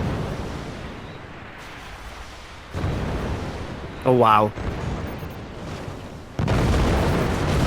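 Flak cannon and mortar fire bursts in the strategy game Forts, rumbling explosions that swell and drop in uneven waves, with a brief voiced exclamation cutting in near the middle.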